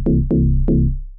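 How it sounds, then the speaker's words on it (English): A Korg opsix FM synthesizer plays a simple digital bass line: three punchy notes, each with a bright, clicky attack that quickly settles into a round, humming tone and decays smoothly. "that, to me, sounds like a lovely digital bass line"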